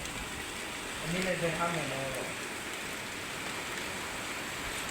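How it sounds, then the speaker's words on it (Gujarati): Steady rain hisses in the background while a person speaks briefly over it, the downpour continuing evenly after the talk fades. "વરસાદ ચાલુ થઈ ગયો"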